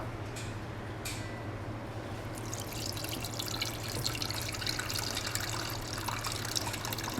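Lemon juice trickles and splashes steadily as it is poured into homemade lemon pickle, a soft continuous liquid pour heard close up over a low background hum.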